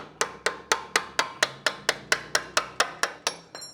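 Hammer tapping out a brake caliper slide pin on an 1986 Volvo C30: about thirteen sharp metallic strikes in a steady, even rhythm, close and clear, with no talk.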